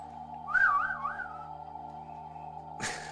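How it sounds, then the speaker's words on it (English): A parrot whistles a single wavering, warbling note lasting about a second, close by, over a steady electronic hum, followed later by a brief, noisy rustle. "The parrot."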